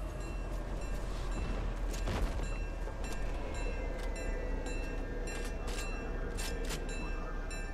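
A train rolls past a station in the video game Fortnite, a steady loud rumble throughout with rhythmic clacks and some brief higher bursts, and no talk over it.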